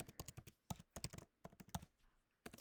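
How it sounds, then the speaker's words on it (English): Someone types on a computer keyboard, with quick clusters of close, crisp key taps separated by short pauses. "We'll get rid of educational presentation and we'll just type in student presentation."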